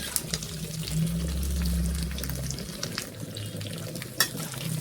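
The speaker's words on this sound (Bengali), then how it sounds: "এইভাবে আমি এগুলো ভেজে নেবো কিছুক্ষণ" Chicken liver and onion fry in a pan with a soft, steady sizzle, joined by a low rumbling hum in the middle stretch and a sharp utensil knock near the end.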